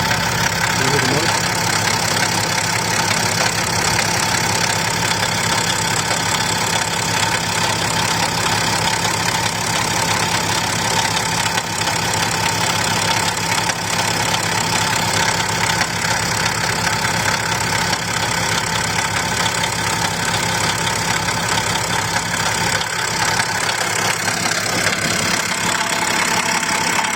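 A BMW X6 engine runs at a steady idle, with a constant broadband whir and hiss from the turbo and exhaust side of the front of the engine. It is close and continuous throughout, with faint handling noises.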